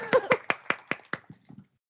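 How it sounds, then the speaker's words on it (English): Sparse clapping at a student senate session, about seven distinct hand claps in an even rhythm that fade out after a couple of seconds, sounding like only a few people rather than full applause. "You can clap."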